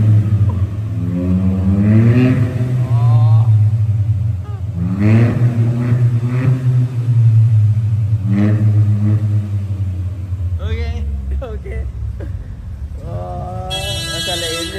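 A modified Hyundai i20 N Line with a stage 1 tune revs repeatedly, each rise sweeping up in pitch then falling back, loud and close, ending with a short burst of higher-pitched engine noise.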